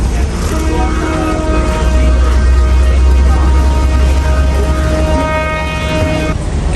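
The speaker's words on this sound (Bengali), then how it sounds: "স্টেশনে অলরেডি একটা ট্রেন দাঁড়িয়ে আছে, এটা যাবে হলো ক্যান্ডিতে।" A train stands at Nanu Oya railway station in Sri Lanka, giving off a loud, continuous rumbling hum with steady tonal whines layered on top that run unbroken from start to finish.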